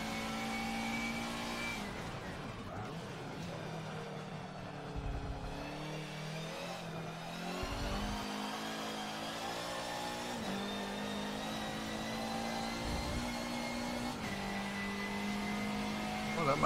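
A front-wheel drive race car laps a track, its engine droning steadily with rising and falling revs and gear changes throughout, close and continuous under a faint voice.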